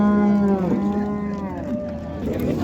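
Cattle at a livestock market in Karshi, Uzbekistan: a single loud, drawn-out moo close by, with market noise behind it and no speech.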